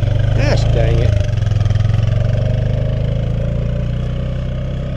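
A 2017 Honda Pioneer 500 Mud Pro Edition side-by-side engine runs nearby, a loud steady low idle with a brief rev near the start, while a voice speaks briefly over it.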